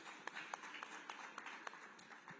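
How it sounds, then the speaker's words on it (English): Faint, sparse applause from a small symposium audience after a speech, with scattered individual claps over a quiet room tone for a couple of seconds. "Can we give him a round of applause?"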